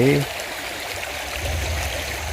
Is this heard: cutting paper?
no